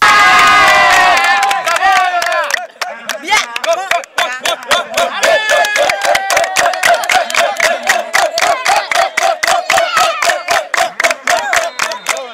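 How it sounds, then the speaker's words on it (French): Football supporters at a village tournament match clap and cheer in a loud, dense crowd, with a burst of shouting at first, then steady rapid rhythmic clapping continuing throughout. "Tonnerre d'applaudissements des supporters."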